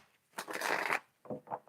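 Tarot cards shuffled by hand, a close riffling burst lasting about half a second followed by a couple of shorter papery flicks.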